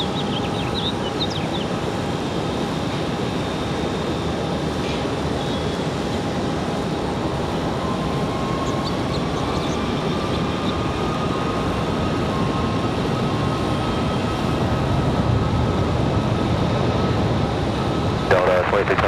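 A Copa Airlines jet at Raleigh-Durham airport, a steady, loud engine roar with a slowly shifting whine that swells slightly toward the end, while a person speaks intermittently over it.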